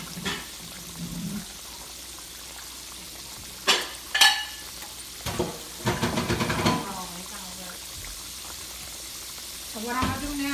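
A pork chop browns in a frying pan, giving a low continuous sizzle broken by a few sharp bursts of spitting and clattering as it is handled, with brief voice-like sounds mixed in.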